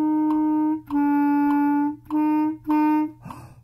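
Clarinet phrase from a Power Rock lesson, measures 21 to 23 played in one breath: sustained notes in a steady rhythm with brief gaps, ending in a breathy release, with a faint backing track underneath.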